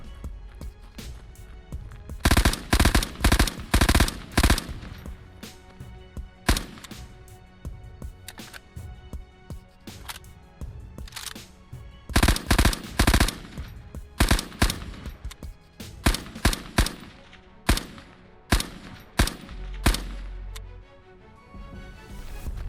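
Rapid bursts of FG-42 automatic rifle fire in a World War II shooter game, loud sharp volleys repeating in clusters across the stretch, with brief gaps and scattered single shots between them.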